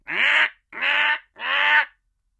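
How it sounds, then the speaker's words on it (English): A crow cawing three times in a row, each call long, loud and close, separated by short pauses, with no other sound around it. "Do you hear that crow?"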